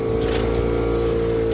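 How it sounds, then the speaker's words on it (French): A sailboat's engine drones steadily and loudly at sea during a windless crossing, a continuous low hum with no talking. "On a dû remettre le moteur parce qu'il n'y avait plus de vent."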